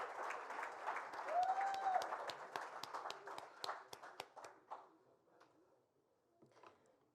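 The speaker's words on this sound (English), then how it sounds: "That deserves a next round of applause." Audience at a Barbados Union of Teachers event gives a round of applause, a burst of many hands that thins into scattered individual claps and fades out, with a few late claps at the end.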